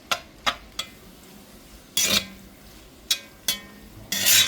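Hamburger meat is chopped and browned in a pan for cowboy spaghetti: repeated sharp scraping clinks of a utensil against the pan at an uneven rhythm, close and without talk.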